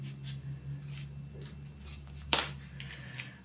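Scissors cut through needle punch cloth while making coasters, giving one sharp, close snip with a few softer clicks after it over a low steady hum.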